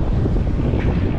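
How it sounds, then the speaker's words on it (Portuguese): Strong east wind buffets the microphone at a roadside stop on a long drive toward the Andes, a steady loud rumbling roar with no voices. "Tem um ventão. Um vento leste. Vento forte."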